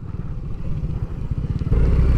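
A small motorcycle engine idles and revs nearby on a mountain ride through the Cordillera around Banaue, a steady low throb that grows louder and heavier toward the end, with no talk.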